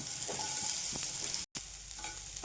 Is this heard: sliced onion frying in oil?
yes